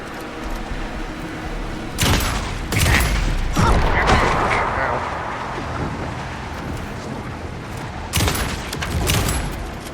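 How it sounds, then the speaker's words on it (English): Gunfire in the video game Alan Wake II, bursts of loud booming shots with ringing tails, clustered around the middle and again near the end amid rumbling game noise. "Anderson, pin him down with gunfire for me to get the light on him"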